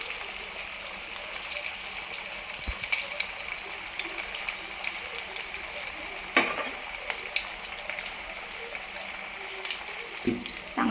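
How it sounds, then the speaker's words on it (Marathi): Potato cheese balls sizzle gently in oil over a low flame, a soft continuous frying hiss with a few sharp clinks of a utensil against the pan. "चांगले फ्राय होऊ द्यायचे बारीक गॅसवर"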